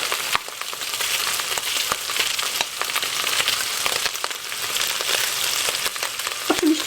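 Minced meat fries and browns in a pan, a continuous crackling sizzle with frequent small pops and occasional spatula taps, fairly close and with no talking.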